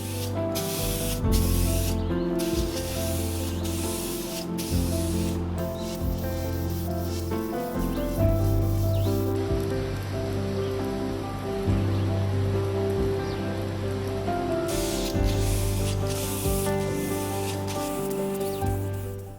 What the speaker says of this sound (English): while spraying several coats of lacquer